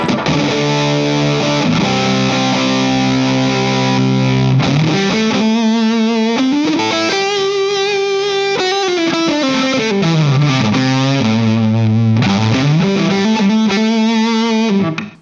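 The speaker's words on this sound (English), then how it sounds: "this might actually be the first distortion I've liked" Electric guitar through a Donner Dark Mouse distortion pedal plays a loud, sustained melodic line with bending notes and thick, saturated tone throughout.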